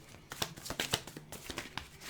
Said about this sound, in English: It actually flew up as I was shuffling.